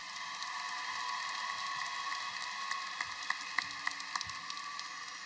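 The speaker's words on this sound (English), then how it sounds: "Let's give them another round of applause." An audience applauds at the Conway High School Class of 2022 graduation ceremony, a steady wash of clapping heard from a distance in a large hall, with a few sharper individual claps standing out near the end.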